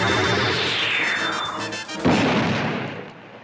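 A bomb explosion in a TV show: a descending whistle, then a sharp loud blast at about two seconds followed by a fading rumble.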